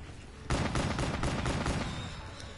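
Gunfire in Black Ops 3 Zombies breaks out as a dense, loud burst of rapid shots that carries on steadily for about two seconds after a quieter start, with no voices over it.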